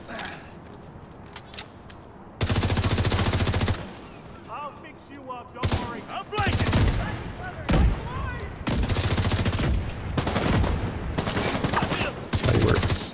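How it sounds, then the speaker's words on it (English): Fireworks in The Division 2 video game at a Coney Island amusement park, heard as loud, dense crackling bursts that come in repeated blocks separated by quieter gaps. "Fireworks."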